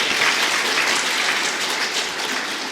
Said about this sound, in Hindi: हाँ ताली बजा सकते हैं